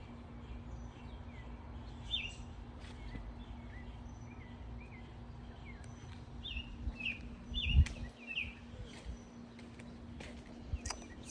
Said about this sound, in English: You can hear the birdies chirping.